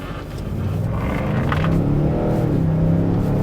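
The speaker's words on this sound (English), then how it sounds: "Let's turn that AC down some so you can hear the power of this EcoBoost" A Lexus NX200t engine in sport mode rumbles and builds steadily as the car accelerates, heard from inside the cabin, loud and continuous with no talking.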